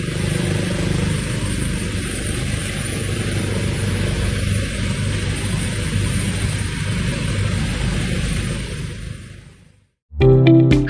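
A helicopter in flight gives a loud, steady rotor and engine roar that holds for about ten seconds, then cuts off abruptly before a brief burst of different noise.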